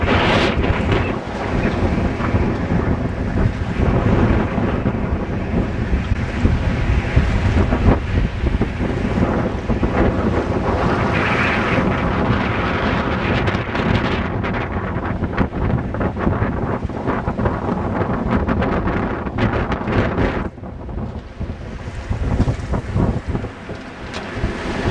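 Wind roars across a sailboat at sea on a round-the-world voyage, buffeting the microphone while waves slosh and rush against the hull in a loud, continuous wash that swells and eases, with no talking.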